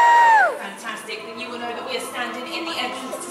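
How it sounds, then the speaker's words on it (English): An audience of Harry Potter fans at a London 2016 event cheers loudly, a blend of many voices whooping and shouting together after a brief high tone at the start. "please do humour me with a very loud cheer"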